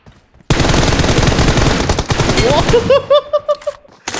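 Gunfire in PUBG Mobile comes as a loud, sustained burst of rapid automatic shots. It breaks into several separate cracking shots with brief gaps before cutting off.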